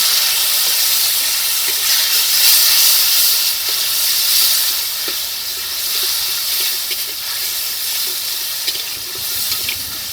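A spice paste of ginger paste, cumin, coriander and chilli powders, sour yogurt, salt and turmeric fries in oil for dhokar dalna. It makes a loud, continuous hissing sizzle with small pops and no talking.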